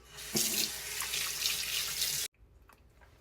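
A sink tap runs steadily as water rinses off face cleanser, a soft continuous splashing that cuts off abruptly, leaving faint drips and quiet.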